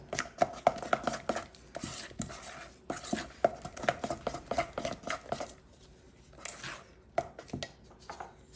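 An old metal spoon scoops ice cream for two-ingredient ice cream bread, giving repeated close, sharp scrapes and taps in irregular bursts with quiet gaps and no talking.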